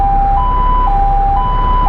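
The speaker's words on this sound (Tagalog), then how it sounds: "nasa likod natin ang ambulansya." Ambulance siren wailing in traffic, a steady two-tone alternating pattern held loud and close over a rumbling road and engine background, with no talk.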